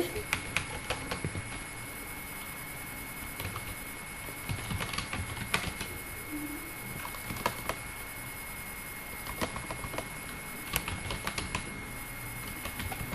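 Keys clatter softly and irregularly on a computer keyboard while an email address is typed into an MS Word document, a quiet steady patter over faint room hum.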